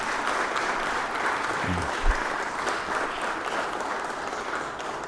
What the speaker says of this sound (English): Let's give him a big round of applause right there.